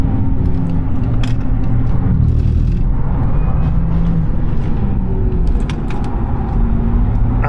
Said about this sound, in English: You can hear the tyres working hard all the way around this track.